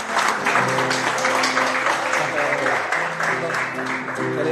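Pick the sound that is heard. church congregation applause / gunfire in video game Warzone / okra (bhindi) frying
church congregation applause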